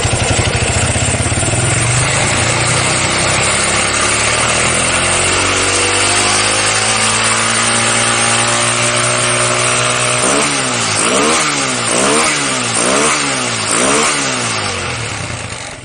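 A Honda Tiger motorcycle engine revs hard, its pitch climbing steadily, then blips up and down in quick repeated throttle bursts; loud and close, with no talk over it.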